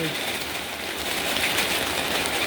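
Rain falls at night in a garden of gardenia shrubs in Surin, Thailand, a steady, close hiss of drops that continues evenly throughout.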